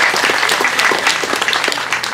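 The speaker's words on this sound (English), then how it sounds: "he deserves a clap" Audience clapping at a garden club's botanical garden dedication, a brief steady burst of dense applause from a nearby crowd.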